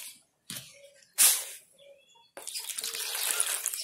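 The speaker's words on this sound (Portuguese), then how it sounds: "Agora eu vou molhar elas." Strips of cotton knit fabric being wetted in water for a garden heron craft, heard as a few close splashes and drips followed by continuous sloshing and trickling.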